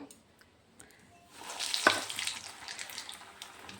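Banana flower chops hit hot oil, starting near silence before a sharp splash and a growing, steady close sizzle of frying that carries on without talk.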